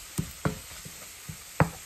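Flour being stirred into beef stroganoff in a pan, heard as a few soft scraping knocks of the utensil against the pan, spaced irregularly and fairly faint over a low background sizzle.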